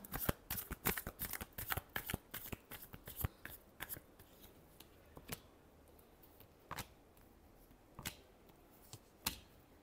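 Tarot cards being shuffled by hand: a dense burst of crisp riffling flicks over the first four seconds, then sparser single taps and slaps spaced out, close and fairly quiet with no voice.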